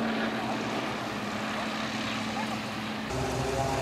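Extra 330 aerobatic airplanes flying in formation at a vintage aviation meet at Hahnweide, their engines a steady loud drone that shifts in tone near the end.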